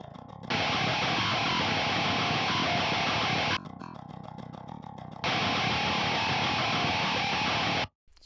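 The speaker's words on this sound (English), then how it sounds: "It's really nice and grindy bass there." Heavily distorted, grindy bass guitar run through an STL ToneHub Colin Richardson preset, loud and dense, playing in two long sustained blocks with a short quieter break between them and a sudden cut near the end.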